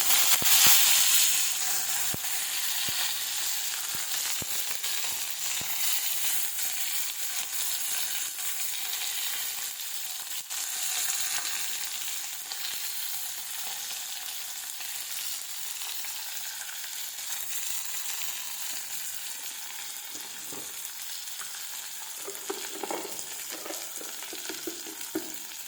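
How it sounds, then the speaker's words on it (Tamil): Sliced onions fry with garlic and asafoetida in a pan for moong dal sambar, giving a close, steady sizzle and crackle that lasts throughout, with only occasional stirring noises. "வெங்காயம் நல்லா பொன்னிறமாக வரைஞ்சி வரட்டும்"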